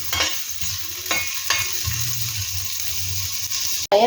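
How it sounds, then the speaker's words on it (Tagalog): Ginger sautéing in hot oil in a wok, a steady close sizzle with a few sharp stir scrapes and clacks, no one talking. "kapag mainit na po ang ating mantika, igigisa na po natin ang ating luya"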